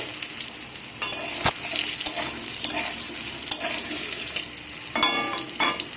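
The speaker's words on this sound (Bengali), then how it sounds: "এই তেলের মধ্যে আমি আলুগুলোকে ভেজে নেব" Potatoes fry in hot oil in a home kitchen while a spatula stirs them, giving a steady background sizzle broken by several sharp scraping strokes against the pan, close and moderately loud with no talking.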